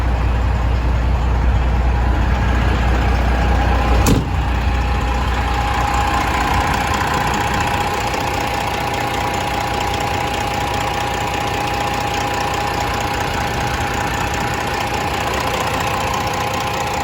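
A 2016 Peterbilt 389 glider kit truck idles with a loud, steady diesel rumble, close and unbroken, with one brief click partway through and no one talking.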